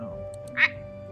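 A person imitates a duck with a single short, nasal quack, loud and close over faint background game music.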